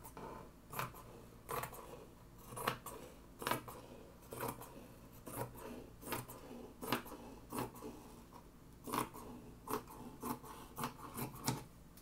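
Scissors snip through dress fabric in a steady series of crisp, close cuts, roughly one every second, with no talking.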